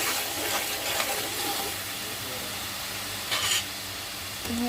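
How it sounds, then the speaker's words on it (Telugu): Onion paste mixture stirred in a hot pan, sizzling and hissing steadily throughout with occasional scrapes of the spoon against the pan, close and fairly loud. "మధ్య దిప్పుతా ఉన్నాం అడుగంటకుండా మిశ్రమాన్ని"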